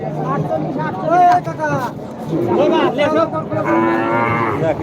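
Cattle moo several times nearby at a cattle market, long wavering calls overlapping with people talking in the background.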